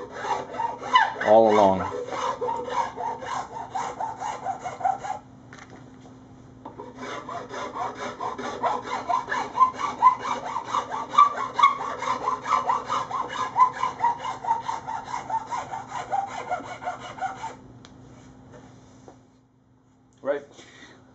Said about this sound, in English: take this file and file in a bevel